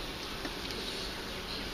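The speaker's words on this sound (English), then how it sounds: "Watch the bees on this side, just don't pinch them." Honey bees buzzing on a comb they are drawing out, a dense steady hum close at hand, continuous and unbroken with no voices.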